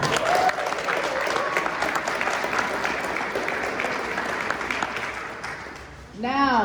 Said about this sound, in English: let's take them back to their seats with a round of applause